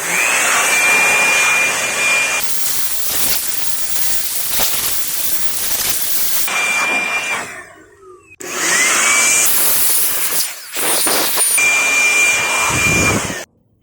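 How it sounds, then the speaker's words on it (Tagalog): Loud hissing air blower cleaning a 1kW inverter, running in long bursts, cutting off briefly and starting again, close to the microphone with no talking. "Sa paglinis, gamit lang tayo ng blower o di kaya brush"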